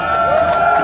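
Crowd at a live concert at a birthday show, a short, loud burst of cheering and whooping, with no talking over it.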